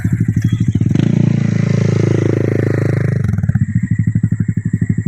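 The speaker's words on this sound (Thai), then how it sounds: "เดี๋ยวนะครับให้รถไปเสียงมันดัง" A loud motorcycle engine chugs close by, swelling into a roaring pass and then settling back to a rhythmic idle putter.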